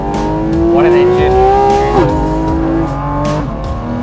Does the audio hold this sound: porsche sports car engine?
yes